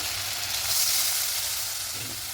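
Spice masala with Kashmiri chilli powder sizzles and fries steadily in a pan for aloo dum, a continuous close hiss with faint stirring and no talk.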